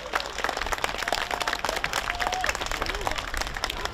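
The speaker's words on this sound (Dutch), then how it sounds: "dat we daar met z'n allen een heel groot applaus voor geven" Audience at the Geervliet summer festival applauding the volunteers, a steady dense wash of many hands clapping with a few voices and whistles mixed in, fairly loud and continuous throughout.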